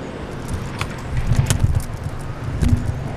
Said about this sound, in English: line of cars getting to the freeway.